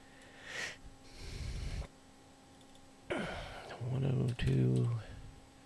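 Typing on a computer keyboard while setting up a dual boot of Endeavour OS Linux with Windows 11, a few short bursts of key clicks mixed with someone talking and some breathy noises.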